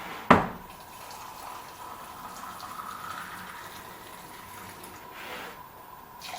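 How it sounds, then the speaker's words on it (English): Hot water poured into cups of honey drink in a kitchen, a faint, steady trickle and gush after a sharp knock at the start, with a brief louder splash near the end. "So I'm going to add hot water to all of these."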